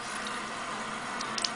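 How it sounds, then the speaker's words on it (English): Water runs steadily from a tap in a continuous close hiss while brushes are washed with soap, with a few small splashes and drips near the end. "turn on the water"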